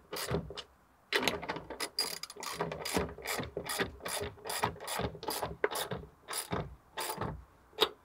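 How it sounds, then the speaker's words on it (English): Ratchet cranking to tighten a fitting on a DIY car camera rig, a rapid series of sharp metallic clicks in quick bursts, close and fairly loud, with no talking. "then we'll come in with the ratchet"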